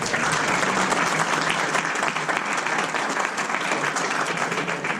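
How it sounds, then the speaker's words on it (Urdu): An audience at a Bazm-e-Adab Urdu literary gathering in Atlanta breaks into sustained, even applause welcoming a poet to the stage, many hands clapping at a steady level for several seconds with no speech over it. "آپ سب کی تالیوں میں اسلم پرویز صاحب"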